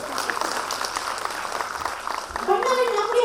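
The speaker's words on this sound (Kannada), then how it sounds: "ಅವ್ರಿಗೊಂದು ಚಪ್ಪಾಳೆ ಕಟ್ಟ." Applause from the audience at a Women's Day gathering, a dense, steady patter of many hands lasting about two and a half seconds before voices take over near the end.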